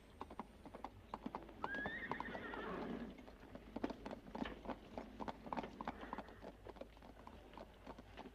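Horse whinny rising over a run of hollow hoof clip-clops on a street in an old western, hooves steady and fairly close, with faint background ambience.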